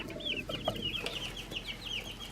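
Young Buff Orpington chickens kept indoors cluck and chirp softly in a quick, repeated string of short calls, fairly close but quiet, with a low background hum.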